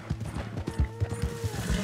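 Horse hooves in Red Dead Redemption 2, a quick, steady clip-clop beat of close hoof falls with creaking tack over a short run, no talking.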